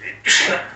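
A single sneeze bursts out sharply and close, preceded by a brief breathy intake, in a quiet indoor conversation.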